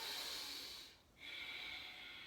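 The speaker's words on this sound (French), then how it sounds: "respirez dans cette posture, dans la respiration du Ujjayi toujours." Slow ujjayi yoga breathing, a soft, steady throat-constricted hiss drawn through the nose and mouth, with a brief pause between the long inhale and the exhale, close and quiet without speech.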